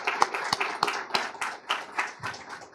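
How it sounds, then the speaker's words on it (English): Scattered applause from a small audience at a police explorers team recognition ceremony in Brownsville, a few distinct hand claps building into brief clapping that lasts under three seconds, without speech. "I want you to join me in giving yourselves a round of applause"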